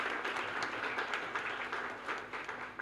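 A crowd at a spiritual discourse claps in a steady, dense patter that sounds soft and somewhat distant, with no voices over it for the few seconds it lasts.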